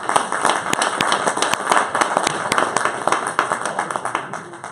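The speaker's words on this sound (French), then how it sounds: "on peut aussi l'applaudir" An audience at a Christian forum worship service breaks into brisk, dense applause for a speaker, a sustained crackle of many hands clapping at close range that holds steady throughout.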